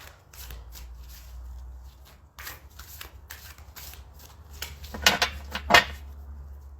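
A deck of tarot cards being shuffled by hand, quiet riffling and shuffle bursts in a few separate rounds, growing louder and sharper toward the end, set against a low steady background hum with no talking.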